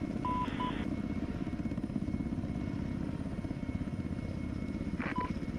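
Mi-24 Hind attack helicopter in the Arma 3 video game, a steady loud rotor drone throughout with a rapid low thudding pulse, joined by brief electronic radio beeps near the start and end.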